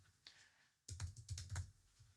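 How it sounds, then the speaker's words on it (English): Typing on a computer keyboard: a quick burst of five or six clicky keystrokes close to the mic after one earlier isolated tap, all fairly quiet, with no voices. "I'm just going to hit T on my keyboard to type"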